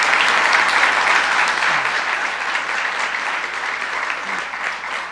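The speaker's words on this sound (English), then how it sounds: "Let's give them both a round of applause." Audience round of applause at a New York housing event, loud dense clapping that slowly tapers off, alone without speech.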